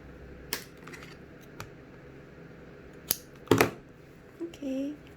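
Scissors snipping off extra yarn after a knot is tied on a loomed beanie: a few sharp, close clicks and a cluster of snips, with a brief murmur near the end.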